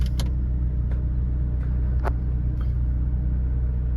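A 1987 Plymouth Colt Vista 4WD with manual transmission drives along, its steady low engine and road rumble constant and close, with a few sharp interior clicks and rattles over the drone and no talking.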